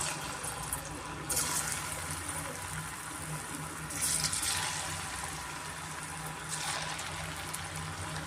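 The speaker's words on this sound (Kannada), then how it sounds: "ಈಗ ನಾವು ಹೋಮ್ ಮೇಡು ಕಬಾಬ್ ಪೌಡ್ರ್ ಯೂಸ್ ಮಾಡಿದ್ರಲ್ಲ ಅದನ್ನು ಒಂದೊಂದೇ ನಾವು ಎಣ್ಣೆಯಲ್ಲಿ ಇಟ್ಕೊಳ್ಳೋಣ" Kebab pieces coated in homemade kebab powder sizzle in hot oil over a medium flame, a steady continuous frying hiss with a few louder spitting bursts, heard close with no talking.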